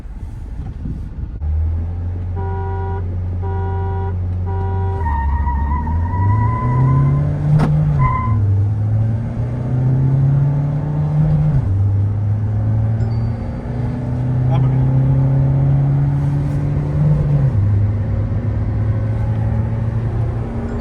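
Two Mahindra SUVs, a Scorpio N and an XUV700, accelerate hard side by side in a drag race, engine drone rising in stepped pitch through repeated gear changes, loud and close throughout with a faint voice briefly under it.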